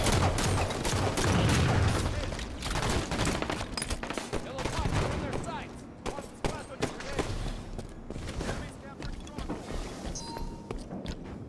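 Rifle gunfire in a video game rattles in loud, rapid bursts that fade into sparser shots, with players talking throughout.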